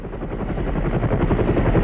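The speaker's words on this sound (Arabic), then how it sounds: "سمعت صوت مروحية في الجو" A helicopter flies overhead, its rotor producing a steady, loud, rhythmic chopping thrum that holds without a break and grows slightly stronger.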